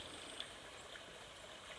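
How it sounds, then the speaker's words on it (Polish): A small stream trickles and babbles softly outdoors, a faint, continuous watery wash with no voices. "słyszycie? strumyczek."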